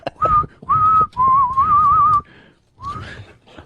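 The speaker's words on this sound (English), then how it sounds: "He could whistle a tune." A man whistles a tune on a radio show, clear sustained notes in several bright phrases with short pauses between them, close and loud with no talking.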